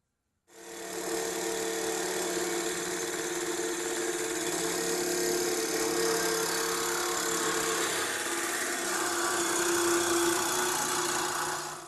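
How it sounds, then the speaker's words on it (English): A Sawzall reciprocating saw cuts through the old exhaust pipe of a Chevy Camaro during a Dynomax exhaust install, giving a steady, loud, unbroken buzzing drone for about eleven seconds with no talk. "We'll go get our protective eyewear on, our gloves, our Sawzall, and get started."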